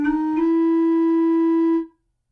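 A single steady flute-like pipe tone from the Röhrflöte 4 stop of a chamber organ, cleaned by software noise reduction, sounds clearly and closely for almost two seconds before a quick release into silence.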